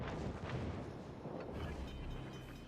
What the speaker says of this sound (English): Secondaries are just banging on him.